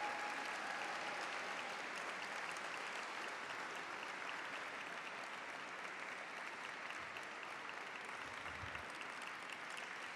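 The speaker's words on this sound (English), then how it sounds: "Give them a round of applause." An audience at a Filipino American History Month celebration claps in sustained, dense applause for about ten seconds, steady and moderately distant, with no clear voices over it.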